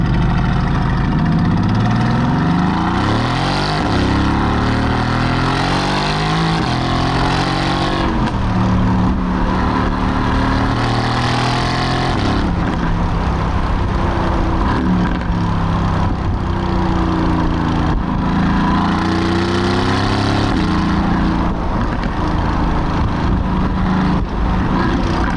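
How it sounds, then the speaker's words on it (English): A 2015 Mercedes-AMG GT S engine burbles and rumbles with a deep, guttural, gargling tone, steady and close for about twenty-five seconds with slight swells in pitch, no talking. "This car sounds so guttural, just gargling nails all the time."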